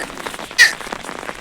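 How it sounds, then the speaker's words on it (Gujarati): Steady morning rain patters on a surface outdoors, with one sharper splash standing out briefly midway. "તો મિત્રો હવારદીનો વરસાદ પણ વરસે છે"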